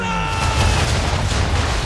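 A deep, booming blast of ship cannon fire in Assassin's Creed III, with a dense low rumble that fills the short clip, steady and loud throughout.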